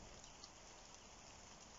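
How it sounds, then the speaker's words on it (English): Heavy autumn rain falling outside, a steady even hiss of downpour that holds at the same faint level throughout, with no voices. "it's raining quite a lot"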